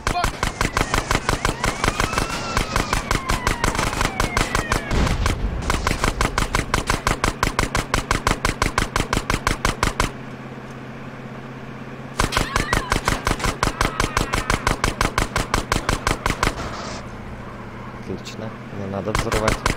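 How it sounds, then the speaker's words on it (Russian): Police Uzi fire in GTA San Andreas, rapid sustained bursts of loud automatic gunshots that stop briefly, resume, then pause again near the end. "Да это менты начали с УЗИ стрелять."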